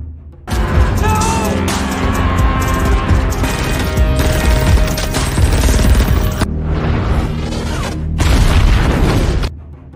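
A big suicide blast kills a group of guards in the film Guns Akimbo, a loud, sustained roar of explosions and rumbling booms with debris bursts, cutting off briefly before a final surge and sudden end.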